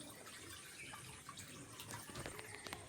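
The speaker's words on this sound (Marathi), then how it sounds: "मी पाणी भरत आहे" Tap water pours steadily into a container during a short morning water-filling chore at home, a close, continuous rushing splash with no talking.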